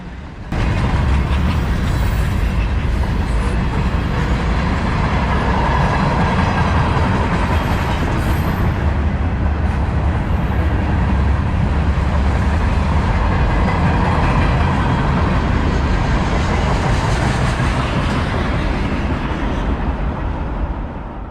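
A CSX freight train hauled by old locomotives rolls past, a loud, steady rumble and rattle of wagons lasting the whole stretch with no voices.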